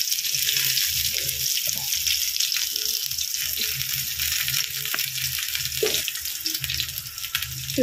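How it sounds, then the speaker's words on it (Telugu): Fish fries on a dosa pan over a low flame, giving a steady close sizzle throughout with occasional soft scraping. "సిమ్ లో పెట్టి ఫ్రై చేసుకుంటే నెమ్మదిగా ఇలా మంచిగా ఫ్రై అవుతుంది"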